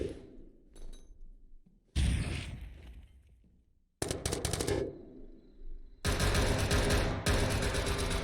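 A grenade blast in a Halo competitive IEL match among bursts of automatic weapon fire, a sudden loud boom followed by rapid rattling shots and sustained heavy gunfire, close and without talk.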